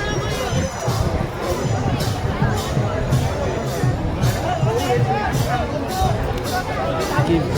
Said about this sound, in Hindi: कि भीड़ प्रबल भीड़